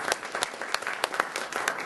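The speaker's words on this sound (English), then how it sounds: "Let's give her a round of applause." An audience at a game developers' talk applauds, a steady, moderately distant patter of many hands clapping for about two seconds with no talk over it.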